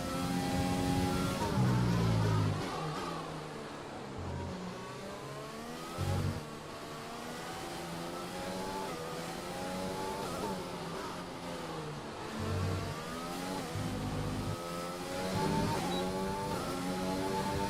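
An F1 car engine in the F1 2020 video game, qualifying at the Vietnam circuit, drops off under braking and then climbs back through high revs. Loud, whining pitch sweeps rise and fall with each gear change, with no voices over it.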